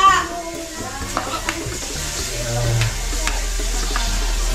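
Ginger is added to a hot pan and stir-fried, giving a steady sizzle with scraping stirs close by and faint voices in the background.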